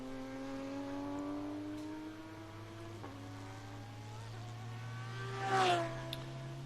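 A Lamborghini race car engine rises steadily in pitch at VIR, a loud, continuous drone with a second engine note beneath it, swelling briefly near the end before a shift.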